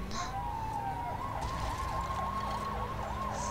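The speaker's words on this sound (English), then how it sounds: "his sirens were on for some reason" A police siren in the video game Lego City Undercover wails up and down continuously at moderate distance under a steady engine drone, with no one talking.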